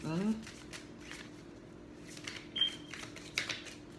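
Tarot cards shuffled by hand in quick soft riffles and flutters, close and faint, with someone talking over them throughout.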